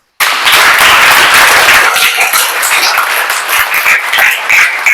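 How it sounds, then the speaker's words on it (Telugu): Loud, dense applause from a crowd of children at a summer camp, starting abruptly and continuing steadily as a wash of clapping without speech. "గట్టిగా చప్పట్లు కొట్టండి."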